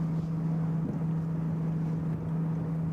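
A bass boat runs at speed through a cut-through on Lake Okeechobee, Florida. A steady outboard engine drone mixes with wind buffeting the microphone, continuous and close, with no talk.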